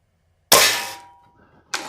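Webley Valuemax .22 spring-piston break-barrel air rifle firing a single sharp, loud crack with a short ringing tail, then a second abrupt impact sound right after.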